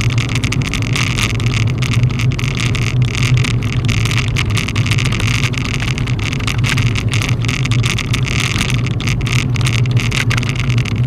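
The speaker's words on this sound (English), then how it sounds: "An American car probably wouldn't vibrate this much." A car engine runs steadily while driving on a tour through town, a constant loud drone with rumbling vibration and road noise, no talk over it.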